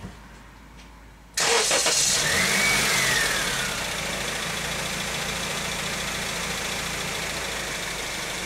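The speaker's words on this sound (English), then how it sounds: "Start the car up." Honda car engine cranks and starts abruptly after a quiet opening, then settles into a steady, close idle with a brief rev as it catches.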